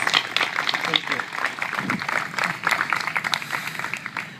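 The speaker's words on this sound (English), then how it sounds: "I just think they all deserve a big round of applause." Steady applause from a crowd at a veterans memorial dedication in Butler, Missouri, a dense patter of many hands clapping, fairly loud and sustained throughout.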